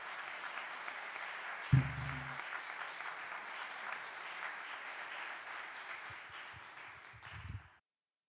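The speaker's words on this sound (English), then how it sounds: "We say goodbye, round of applause." Sustained applause from a conference audience at an open education technology congress in Barcelona, a broad even wash of clapping lasting several seconds with a brief thump near the start before it fades out.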